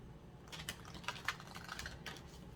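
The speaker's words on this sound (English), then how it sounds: "I shuffle these 3 times and I cut by 3." A deck of tarot cards is shuffled close up in a quiet room, giving a run of quick, soft riffling clicks and flutters in short bursts.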